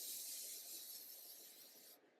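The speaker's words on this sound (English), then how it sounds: "Let's use the first round of the Morphe setting spray." A Morphe Life Proof makeup setting spray mists in one continuous, soft hiss lasting about two seconds before it cuts off, fairly faint and heard alone.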